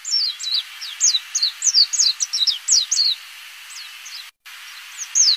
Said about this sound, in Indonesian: Burung pleci banyak dipelihara karena kualitas suaranya